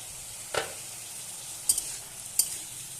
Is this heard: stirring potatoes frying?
yes